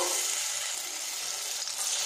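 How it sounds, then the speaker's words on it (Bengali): Eggplant slices sizzle loudly and evenly in hot mustard oil over medium heat, a constant crackling hiss close up with no talking. "মিডিয়াম হিটে বেগুনটা আস্তে আস্তে ভেজে নেব।"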